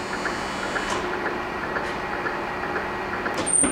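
An 18"/25" x 60" Acra-Turn gap bed engine lathe motor hums steadily, with a few faint clicks and a brief high tone near the end; no one speaks.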